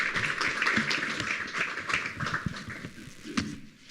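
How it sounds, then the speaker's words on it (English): An audience applauds the moderator at an international symposium on global justice and Africa's G20 priorities, with steady, moderately loud clapping throughout that thins out toward the end. "A round of applause for our moderator,"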